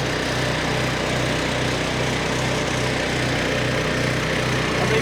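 A Weibang Velocity 68 tracked flail mower drives and turns with a steady, close engine drone and a faint, even underlying pulse, with no voices.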